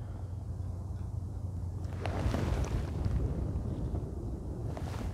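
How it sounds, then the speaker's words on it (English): Wind blowing outdoors at night at Hurst Castle, a steady low rumble buffeting the microphone that swells louder midway and stays constant, with no talking. "Just the wind."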